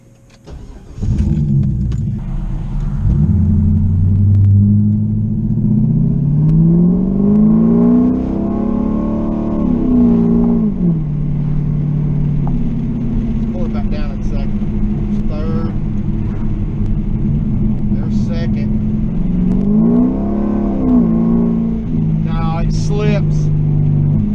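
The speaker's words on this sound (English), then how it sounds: "Give it gas in second, it just slips and then goes into third" Chinavette car accelerating with its transmission slipping in second gear before shifting into third, engine revving and rising in pitch in two long sweeps, loud and close, with people talking over it.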